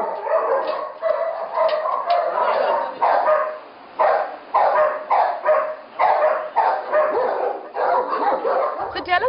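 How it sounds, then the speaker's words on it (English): Many German Shepherds in a breeding kennel bark in a dense, continuous chorus of overlapping barks and yips, loud and close, with whimpers mixed in. "Today we have about 42 German Shepherd dogs with us."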